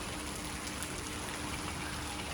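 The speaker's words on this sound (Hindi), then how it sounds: "ये हो रही है जी बारिश।" Steady rain falls outdoors in a continuous, even hiss of drops, moderately loud and close, with no voices.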